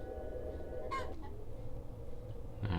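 Short clucks from a chicken in the arcade-style game AlienAte, a couple of brief bursts over a steady low game hum, fairly faint with no talking.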